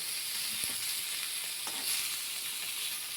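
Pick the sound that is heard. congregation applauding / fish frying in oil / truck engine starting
fish frying in oil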